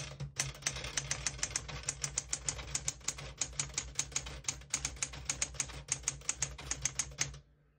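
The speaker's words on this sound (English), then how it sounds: "I'll type a sentence in red on the next line." Rapid, steady keystrokes on a 1969 Smith-Corona Classic 12 portable typewriter, typed in red ink, with crisp close clacks in an even rhythm for about seven seconds, then silence.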